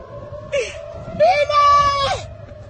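Screams and wails of people in Israel during a Hezbollah rocket attack, two shrill cries rising over a background of crowd noise and talk, one short and one longer and sustained.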